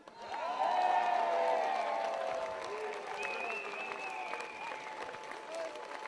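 Crowd applause welcoming a singer to the stage at an outdoor folk summer camp, soft and distant beneath bright sustained tones and audience voices, swelling briefly and then easing off.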